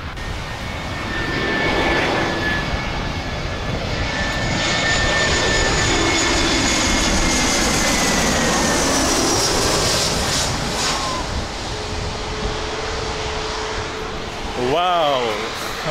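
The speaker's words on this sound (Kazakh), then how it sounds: "Сол ұшақ ұшып келе жатыр." A low-flying airplane passes over a beach, its engine roar swelling loud and close before fading, with a person talking over the noise.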